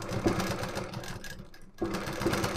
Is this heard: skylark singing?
no